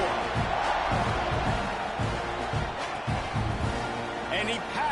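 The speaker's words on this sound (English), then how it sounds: "this crowd is buzzing after that last score" A packed stadium crowd at a TCU versus Texas A&M football game keeps up a broad, steady buzz after a score, with a commentator talking over it.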